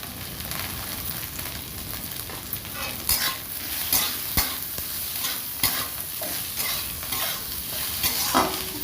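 Tindora (kundru) sizzles in a pan over a medium flame with salt and turmeric, steady frying hiss broken by repeated scraping clicks of a spoon stirring.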